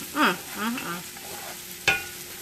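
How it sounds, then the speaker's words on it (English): Oxtails sauté in a hot pan with a steady, low sizzle, stirred now and then, with one sharp clatter of a utensil near the end. "we're just going to let those just saute"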